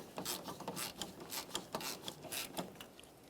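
A ratchet or wrench bottoms out the brake master cylinder mounting nuts on a 2012-2015 Honda Civic, giving rapid, close mechanical clicking in uneven bursts with no talk.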